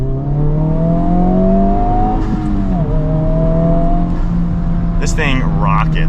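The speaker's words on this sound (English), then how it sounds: "You can tell there's the fake engine sounds when you're in the R mode" A 2024 Honda Civic Type R engine drones loudly and steadily in R mode, with rising and falling harmonic tones from its synthetic engine sound, while a person talks over it.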